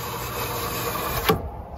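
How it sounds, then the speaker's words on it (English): A Drummond 63407 shallow well pump runs steadily near at hand, a continuous mechanical hum with a high whine that stops abruptly after a brief surge. "Sorry about the pump noise."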